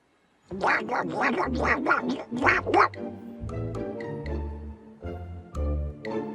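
A cartoon duck from a Disney show quacks in a rapid series of loud, nasal squawks, then goes on in a choppier, rhythmic pattern of honks over a plucky bass backing. No one talks.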